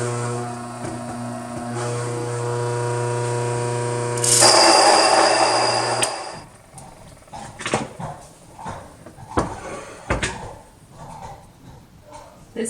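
Mockmill 100 flour grinder milling grain, a loud steady motor hum and grinding that swells briefly and then stops, followed by scattered clunks and handling sounds.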